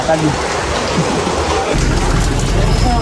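Rain pouring steadily outdoors in a village, a dense continuous hiss of drops on surfaces that swells louder partway through, close and enveloping with no other sounds on top.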